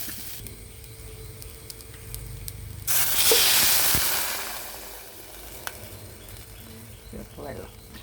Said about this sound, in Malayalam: ഇനി നമ്മൾ ഇതിനകത്തേക്ക് 1 കപ്പ് വെള്ളം ഒഴിക്കും.